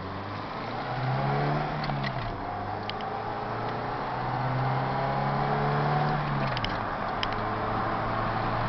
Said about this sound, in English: Yes, there's cars coming. Let's wait for the car.